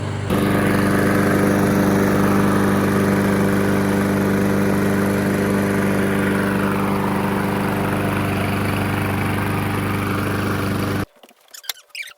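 A lawn mower engine runs loud and steady with its throttle held open by a zip tie, droning on until it sputters out of gas and cuts off near the end, leaving only faint handling noises.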